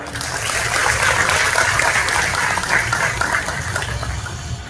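Crowd applause at a Ganesh festival pandal ceremony in Amravati, a dense, steady wash of clapping sustained at even loudness throughout, easing slightly toward the end.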